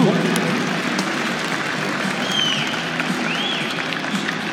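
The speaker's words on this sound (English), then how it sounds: "let's give a big round of applause" Crowd applause and cheering fills a high school gym on senior night at a varsity boys basketball game, a dense steady wash of clapping with a few whistles cutting through, no announcer talking over it.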